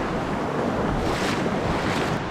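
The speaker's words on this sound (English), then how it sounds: "But here, the waves are breaking really far out," Surf breaking far out on a steep shingle beach in the rain, a steady continuous wash with wind buffeting the microphone throughout, close and loud.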